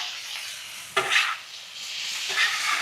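Food flipped on a Weber Slate 36-inch outdoor griddle, a steady close sizzle and hiss with a sharp scrape-and-slap at the turn and a second softer flip sound moments later.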